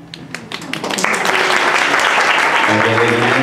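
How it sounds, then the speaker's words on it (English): Wedding guests applaud after a toast at the reception, a dense, steady burst of clapping that swells within the first second and holds loud, with a few voices faintly mixed in. "A big round of applause."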